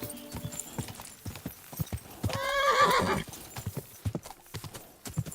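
Horse hooves clip-clop steadily in a video game set in medieval Bohemia, with a loud whinny rising near the middle over the hoofbeats.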